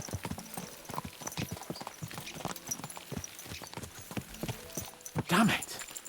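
Horse hooves clip-clop in a quick, irregular rhythm on the ground in the video game Kingdom Come: Deliverance II, with a brief whinny near the end.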